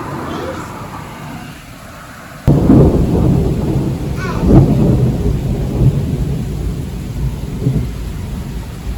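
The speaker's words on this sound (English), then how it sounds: "A huge storm is coming." A thunderstorm sweeps in with a sudden heavy clap of thunder followed by long rolling rumbles and steady rain, loud and close, with faint voices underneath.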